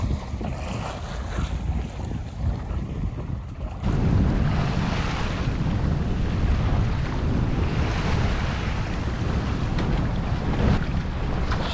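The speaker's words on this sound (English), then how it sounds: "Shamrock's sailing beautifully at the moment. Sails nicely balanced." A 20-foot sailboat, Shamrock, sails solo near the Gunfleet wind farm, with steady wind rushing over the microphone and water washing past the hull, loud and continuous with no voices.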